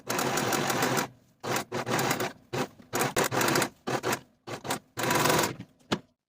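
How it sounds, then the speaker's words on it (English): Serger finishing the outer edge of a blouse facing, loud close bursts of rapid machine stitching, one long run followed by a series of shorter stop-start runs with pauses between. "while I'm at my serger, I'm also going to finish the outer edge of the facing"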